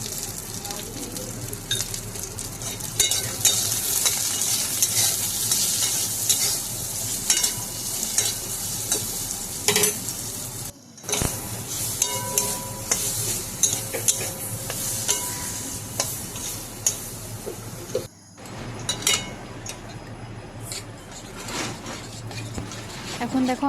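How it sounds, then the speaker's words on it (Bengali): Hog plums (amra) being stirred in a pan of hot oil with a dry chili tempering, a steady broad sizzle with scraping and clatter of the spoon, briefly cut by two short pauses. "এখন ভালোভাবে আমড়াগুলোকে নেড়ে নেব।"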